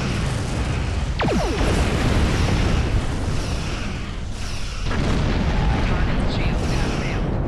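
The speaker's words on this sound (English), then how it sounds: "Keep on firing on that ship." Starship weapons fire on an enemy vessel in a Star Trek video game, a loud, dense barrage of booming blasts with brief zapping streaks, continuous over several seconds with a short dip midway.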